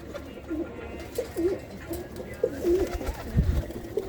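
Around thirty-five home-bred flying pigeons coo in repeated low, throaty phrases, several birds overlapping at moderate distance with no voices over them.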